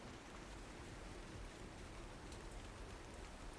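Steady rain pours throughout as ambience during a tabletop role-playing game session on a dark, wet night, a dense continuous hiss with no voices.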